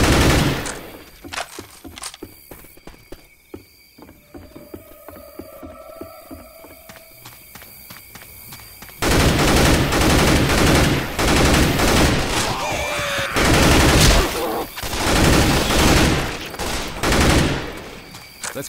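Sustained automatic gunfire in the Left 4 Dead 2 zombie shooter, swamp campaign: scattered shots and a tonal hum at first, then dense, loud, continuous rapid fire dominating the remainder, with faint voices now and then.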